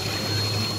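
Water is poured into a cooking pot of potatoes with green chilies and coriander, a steady watery rush over a low hum lasting under a second.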